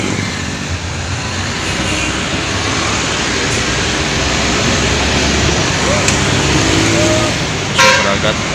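An Aneka Jaya intercity bus running the Surabaya–Ponorogo–Pacitan route passes along an arterial road with heavy traffic noise, a steady roar throughout, and a short horn blast near the end.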